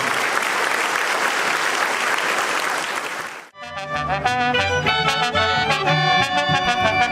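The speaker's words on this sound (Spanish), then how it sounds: "Vamos a brindarle un fuerte aplauso a nuestro patrón San Francisco de Asís." Loud, dense applause from a crowd at the fiesta of patron saint San Francisco de Asís in Ichán, Michoacán, cuts off abruptly midway and gives way to band music.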